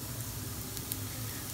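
Vegetables for aloo tikki burgers sizzle steadily in a hot pan, a soft continuous crackle and hiss with no other sounds.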